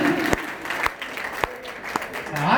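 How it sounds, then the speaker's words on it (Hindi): An audience at a large public gathering in Surat, Gujarat, claps under a voice, with a few sharp isolated claps standing out from a fairly thin, moderate round of applause. "जोरदार ताली"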